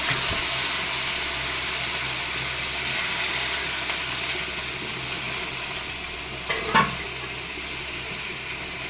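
A kilo of chicken sautéing in a pan with softened onions and tomatoes for a home-cooked gravy gives a steady, close sizzle with faint stirring, and a brief clink of a utensil near the end.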